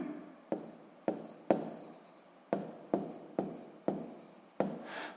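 A pen writing on paper during sixth-grade maths homework, eight or so short, distinct scratching strokes in an uneven rhythm, close and quiet with no talk.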